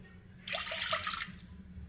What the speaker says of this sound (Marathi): 2 वाट्या पीठ असल्यामुळे मी 4 वाट्या पाणी घेणार आहे।